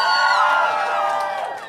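An excited crowd of fans shouts and cheers, forming a steady wall of high, overlapping voices that fades slightly at the end.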